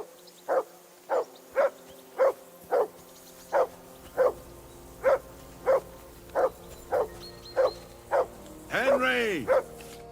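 In the video game Kingdom Come, a dog barks in a regular run of about a dozen loud, evenly paced woofs, followed by a short burst of a voice near the end.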